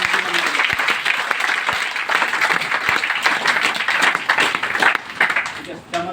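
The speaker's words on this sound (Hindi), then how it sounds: "एक जोरदार ताली फिर से।" An audience breaks into vigorous applause at a gathering, dense clapping with a few sharp individual claps standing out, continuing for several seconds as a voice talks over it.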